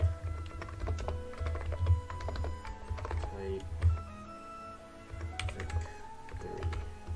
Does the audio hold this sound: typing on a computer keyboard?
yes